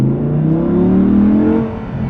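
Audi R8 V10 with a gated manual, its engine revving up close as it's driven, a loud rising and falling growl that swells and then eases off over a couple of seconds.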